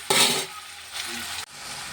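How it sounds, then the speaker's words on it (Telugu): Chopped onions dropped into a hot pan for a potato, drumstick, brinjal and tomato gravy curry burst into a loud sizzle that settles to a steady frying hiss, with a soft stir and a short scrape near the end. "ఉల్లిపాయలు కొంచెం బాగా ఫ్రై అవనిద్దాం"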